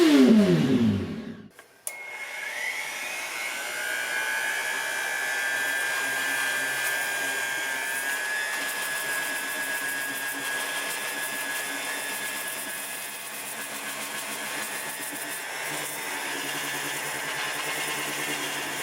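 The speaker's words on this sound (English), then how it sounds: "That is 220 grit sandpaper on my orbital sander." An orbital sander with 220-grit paper whirs up on a Yamaha RZ350 windscreen after a brief low rumble, then runs with a continuous high-pitched buzzing drone that holds steady, loud and close.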